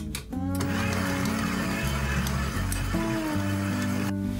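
Stand mixer kneading yeast dough for Berliner doughnuts while soft butter is added, a steady loud motor whine with shifting pitch and a low churning rumble, running continuously.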